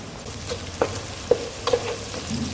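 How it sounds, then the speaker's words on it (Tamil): Onions, green chillies, mint and coriander fry in a pan for kathirikai pulav, giving a soft, steady sizzle broken by a few light stirring scrapes and taps. "இந்த வெங்காயம் கொஞ்சம் நல்லா வணங்கட்டும்"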